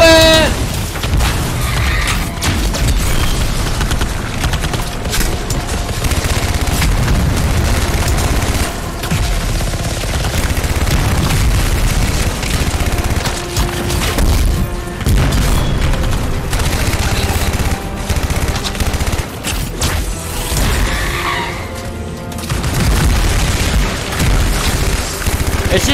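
Dense, loud combat in the video game Anthem during a stronghold mission: continuous gunfire and rapid bursts mixed with repeated booming explosions, with a player's voice talking intermittently over the chaos.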